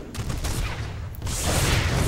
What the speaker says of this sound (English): My Broodlords are ready to start sniping these photon cannons.